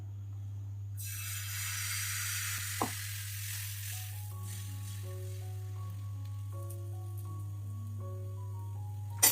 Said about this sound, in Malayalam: പാനിലേക്ക് കുറച്ച് എണ്ണ വരക്കി കൊടുക്കാം ഇത് നമുക്ക് ദോശ ഉണ്ടാക്കിയെടുക്കാം